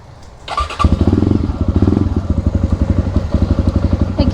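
A superbike's motorcycle engine starts up and settles into a loud, close, steady idle with a rapid pulsing beat, with no one talking.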